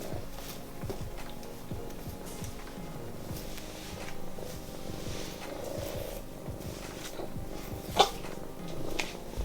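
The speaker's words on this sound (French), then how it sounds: "Et en plus tu ronronnes." A cat purrs up close in a steady, low, rhythmic rumble that pulses with each breath, with a small sharp knock partway through.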